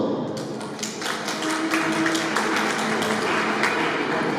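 Guests applauding the godmother at a baptism celebration, a steady wash of many hands clapping, fairly loud and continuous with a faint hum underneath.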